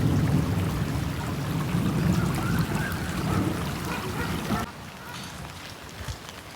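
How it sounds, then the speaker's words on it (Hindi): Light rain falls steadily over a village, a dense soft patter with a trickling wash, fairly close, easing slightly toward the end. "अभी बारिश हो रही है हल्की हल्की"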